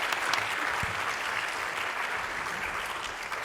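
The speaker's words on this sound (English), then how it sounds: "Sorry, you didn't get a round of applause." Steady applause from an audience at a postdoc appreciation event, a dense wash of clapping hands that holds at an even level throughout, with no clear speech over it.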